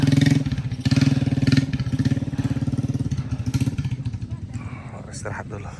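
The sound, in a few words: motorcycle engine riding on a mountain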